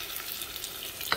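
Ginger and garlic frying in a pan for an egg curry, a continuous close hiss and sizzle with a brief utensil tap at the end.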